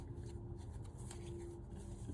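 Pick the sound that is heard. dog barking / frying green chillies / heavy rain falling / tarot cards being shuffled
tarot cards being shuffled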